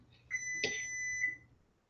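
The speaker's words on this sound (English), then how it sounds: "there's the oven just beeping to tell me it's at the right temperature" A single electronic beep from an oven signalling it has preheated, a steady high tone lasting about a second, clear and close, with a quiet room behind it.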